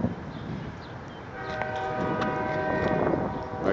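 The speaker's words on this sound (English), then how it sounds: "I hear a train a-coming." A train passes near Joliet and Jackson Streets in Joliet, Illinois: a heavy rolling rumble, then a loud sustained horn blast that carries over the noise to the end.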